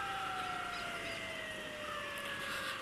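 An ambulance siren wails steadily on a road in Khulna, its two sustained tones sliding slowly downward as it passes, loud and continuous over road and traffic noise.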